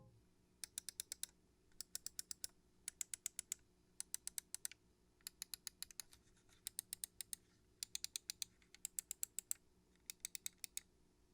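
Crisp clicks from the buttons of a Glorious Model I mouse in quick bursts of four to six, repeating steadily with short pauses, close and clear over a faint background hum.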